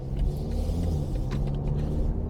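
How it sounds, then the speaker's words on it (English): A BMW 3 Series engine runs steadily at close range, a low, continuous rumble with a droning hum and faint higher whirs over it, and no one speaks. "The first noticeable difference is, of course, the engine sound."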